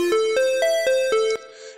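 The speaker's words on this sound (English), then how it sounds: "At the moment, what we're doing is we have made some arpeggios that sound like this." A short run of six evenly spaced, bright plucked synth notes climbs and falls as an arpeggio, each note sharply attacked and ringing briefly, played alone at moderate volume before fading out.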